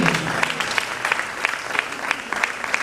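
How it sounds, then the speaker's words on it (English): A conference audience at a biomedical research meeting claps together in a fairly rhythmic applause, with individual claps standing out in regular pulses over a background of room noise. "I think we should be all standing while the applause will continue."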